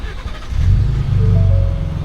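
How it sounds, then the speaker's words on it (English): Ford Raptor truck V6 engine exhaust, a close, loud low rumble that swells as the engine revs up and holds a steady drone, with no talk over it. "it is a V6. You can kind of hear it."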